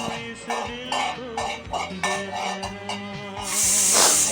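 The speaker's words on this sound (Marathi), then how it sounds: "हे सर्व असे व्यवस्थित हलकेसे भाजून घ्या" Utensils scrape and clatter against a pan in a steady stirring rhythm as spices dry roast, with a faint sizzle building toward the end; no one speaks.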